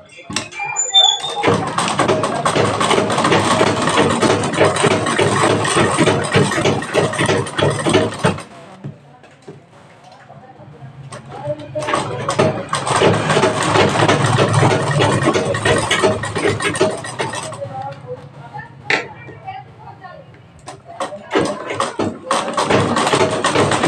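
A sewing machine stitches a belted blouse, running loud and close in long continuous bursts with a short pause between runs and brief taps near the end.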